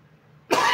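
A person coughs after choking on water, a sudden loud burst of harsh coughing that starts abruptly halfway through and continues to the end, close to the microphone.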